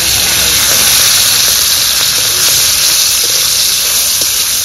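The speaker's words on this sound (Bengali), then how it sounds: "মাছের মাথা এবার তেলে ছেড়ে দেব" A fish head drops into hot oil in a pan for a red spinach fry, giving a loud, constant hiss and sizzle at close range.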